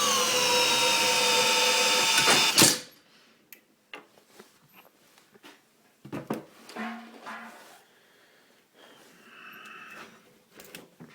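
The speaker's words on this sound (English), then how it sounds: "Drill's going at full speed." An electric drill whines loudly at full speed for a couple of seconds while driving a car alternator in a bench test, then cuts off, leaving scattered clicks and knocks.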